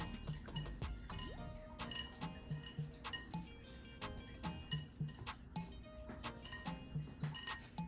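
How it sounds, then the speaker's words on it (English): A whisk clinks rapidly against a bowl while dry ingredients for blueberry bread are mixed, a faint steady stream of light metallic ticks and taps. "we whisk the dry ingredients together to get everything all incorporated"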